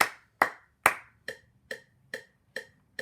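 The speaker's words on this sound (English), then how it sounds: "And here's the clapping." Hands clap out a mixed-meter rhythm counted in five beats: a series of crisp, close claps, the first few louder, spaced unevenly with silence between them.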